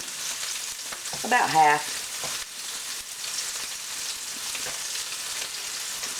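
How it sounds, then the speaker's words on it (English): A pork roast browning in a cast iron skillet for a slow cooker pot roast, giving a steady close sizzle with occasional stirring scrapes while a voice briefly speaks over it. "And a cast iron skillet does it just right. So we're going to get it brown on all sides."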